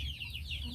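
Chickens clucking in a coop during the rainy season, soft overlapping calls over a low steady background hum.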